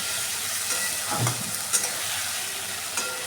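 A soaked cumin, coriander and turmeric spice paste fries in a pan with a dense, continuous close-up sizzle and a few soft stirring scrapes, no voices.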